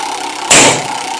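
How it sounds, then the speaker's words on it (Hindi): A scooter engine sound effect bursts in abruptly over a steady background hum and fades within about a quarter second, a single loud mid-range engine blip standing alone. "स्कूटर"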